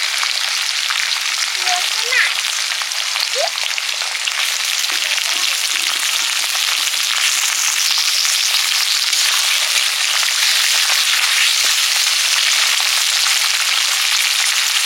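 Shrimp fry with garlic in hot oil, giving a loud, continuous, even sizzle that runs unbroken throughout, with faint occasional clicks and no voices.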